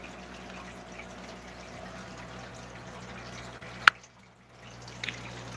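Water runs and trickles steadily during a water change on a 38-gallon aquarium, a low continuous wash with one sharp click near the end.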